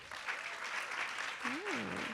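Audience applause at a live storytelling show, brief scattered clapping with a voice calling out over it.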